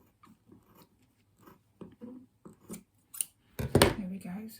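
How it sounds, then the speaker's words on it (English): Scissors snip through thick quilt fabric in a run of short, separate crisp cuts, then a louder, denser burst of cutting near the end, close by and with no talk. "I might have to get my actual scissors to do the tough bit in the middle there"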